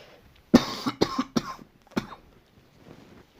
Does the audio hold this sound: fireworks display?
no